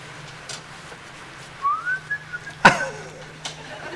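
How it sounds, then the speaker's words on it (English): A man whistles a rising, sliding tune of a few short notes, clear and close, with a sharp knock partway through and faint murmuring in the background. "Robin whistling."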